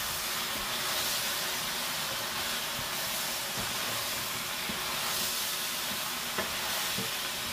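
A pot of couscous ingredients being stirred on the stove, heard as a constant soft hiss of cooking with faint, scattered scrapes and one small knock near the end.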